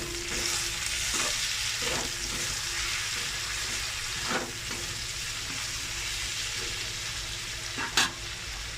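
Chili and turmeric powder sizzle steadily as they fry in a pan with a little water for a Bengali home-style khichuri, with soft scraping stir strokes and one sharper knock near the end.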